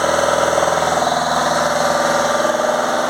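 A Fiat Ducato van's diesel engine held at high revs during a DPF clean, a loud steady drone with rapid pulsing throb, close by and without talk.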